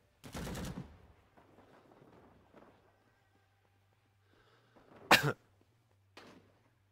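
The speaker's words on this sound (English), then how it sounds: "I heard a shotgun, that's concerning." Shotgun fire in the Vietnam-era shooter Rising Storm 2 comes as a sharp burst at the start, then a louder crack later and a softer one after, separated by quiet stretches with faint game noise.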